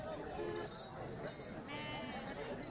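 A goat bleats at a goat sale amid a busy livestock market, brief wavering calls set against steady crowd chatter and background voices.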